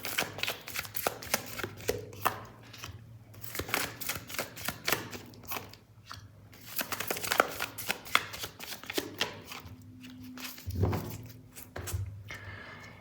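Tarot cards shuffled by hand up close, bursts of riffling and slapping card sounds in quick irregular clusters with brief pauses between, no voices.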